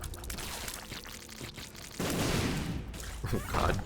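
Rumbling bursts of explosions in The Binding of Isaac video game, a dense noisy wash with louder blasts swelling near the end, amid game music.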